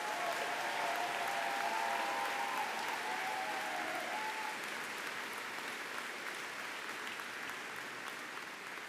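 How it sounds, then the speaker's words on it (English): A commencement audience at Denison University applauds faculty and staff, with dense, sustained clapping from a large crowd that fades gradually and carries no talk. "can we just all give a round of applause to the faculty and staff who provided the education to these graduates?"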